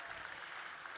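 A stage audience applauds a woman in one brief, even burst of faint, distant clapping.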